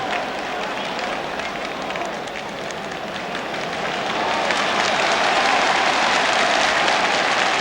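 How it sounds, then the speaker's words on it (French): Broad roar of a football stadium crowd applauding at a 1961 Spain versus France friendly match, a distant wash of clapping and crowd noise that swells louder in the second half. "Ces applaudissements que vous entendez vont à l'adresse du capitaine et chef de la défense française André Leron"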